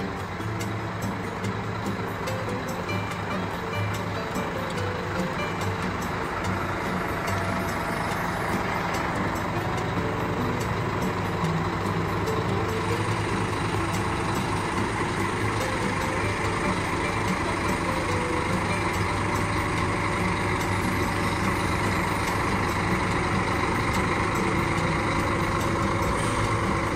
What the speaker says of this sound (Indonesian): Wah suaranya khas banget, mesin Scania K360 ya.